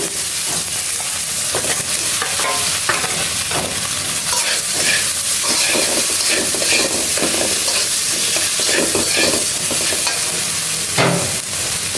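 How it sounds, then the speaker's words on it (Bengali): Onion frying in a pan alongside stirring and hand-mashing of boiled potatoes for a potato bharta, with steady close sizzling and scraping stir sounds running throughout, no talking. "দেখো পেঁয়াজটা ভাজা হয়ে গেছে"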